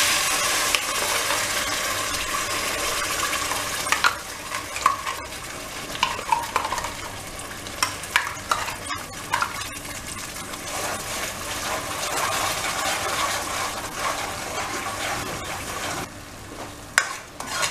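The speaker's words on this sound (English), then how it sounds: "Put the remaining oil in the pan or a wok. And as the oil is hot, put this roasted and ground masala in this." Roasted ground masala fries in hot oil in a pan or wok for a mutton curry, giving a steady close sizzle with stirring scrapes and occasional utensil knocks throughout, with no talking.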